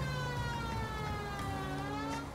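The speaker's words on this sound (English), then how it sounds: "Okay, I should turn off my siren if I'm going to make a stealthy approach." Police car siren in the L.A. Noire video game, a steady wailing tone held throughout over a dense rumbling backdrop of engine and traffic noise.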